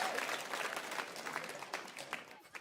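A crowd applauds at a VALORANT Game Changers Championship esports match between G2 and MIBR, heard as faint, distant clapping with some crowd noise.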